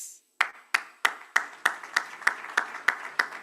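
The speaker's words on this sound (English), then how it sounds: "Please come up on stage. Give it up for Mr. Singh." Audience at an awards ceremony clapping, a sharp burst of claps after a brief pause that settles into a regular, evenly spaced rhythm of loud close hand claps.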